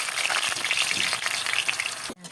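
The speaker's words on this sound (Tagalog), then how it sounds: "Bilisang prito lang po." Sauce of sautéed onion, garlic and tomato frying in a pan, a loud steady sizzle with crackling pops, cutting off abruptly near the end.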